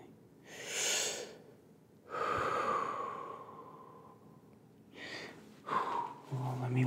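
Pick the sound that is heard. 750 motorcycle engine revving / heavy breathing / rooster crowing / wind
heavy breathing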